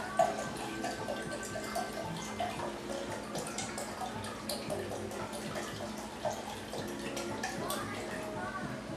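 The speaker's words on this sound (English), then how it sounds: "we're going to add 2 cups of water." Water splashes and trickles steadily into a cooking pot, with clinks and drips throughout and a faint hum underneath.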